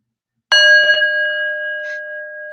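A single bell strike in a classroom quiz, starting sharply and ringing on with a long, steady tone that slowly fades, heard alone and close.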